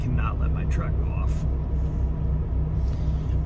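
A semi truck's diesel engine idles steadily at a freight terminal's inbound bay, a constant low rumble with a brief hiss near the start, running throughout with no one speaking.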